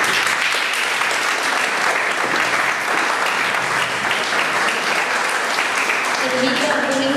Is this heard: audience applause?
yes